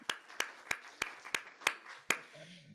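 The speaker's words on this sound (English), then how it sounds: "So just by walking in the room, you get a round of applause." About seven sharp, evenly spaced claps sound for a guest walking into a room, slow and distinct rather than a full wave of applause, with faint room noise after.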